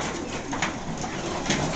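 Pigeons in a loft give soft, low cooing calls in short repeated bursts, close by and fairly quiet, with no talk over them.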